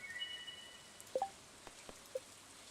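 Rain falls in the video game Stardew Valley as a quiet, steady patter under soft game tones, with a few brief higher blips and chimes sounding intermittently.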